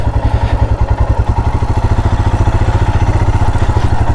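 A Royal Enfield Himalayan BS6 motorcycle engine thumps loudly while riding off-road, its fast, even single-cylinder pulse close and continuous with a faint clatter, no talking over it.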